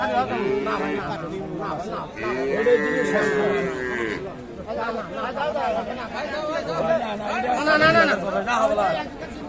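Cattle at a busy market moo loudly and repeatedly, long drawn-out calls rising over constant crowd chatter and nearby voices.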